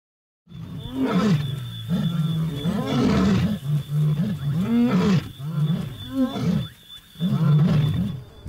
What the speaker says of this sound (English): The bellowing territorial roar of lions.